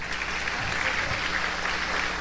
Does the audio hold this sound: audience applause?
yes